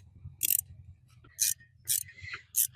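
Ratchet clicking in short bursts while tightening exhaust manifold nuts on a BMW E36, four quick rattling runs separated by pauses over a low background hum.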